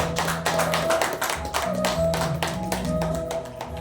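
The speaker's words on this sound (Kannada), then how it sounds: "ಎಲ್ಲರೂ ಚಪ್ಪಾಳೆ ಹೊಡೆದ್ರೆ ತುಂಬ ಖುಷಿಯಾಗುತ್ತೆ" Audience applause at an award and singing festival in Akshara hall, Bengaluru, a rhythmic patter of claps mixed with a sustained musical tone underneath.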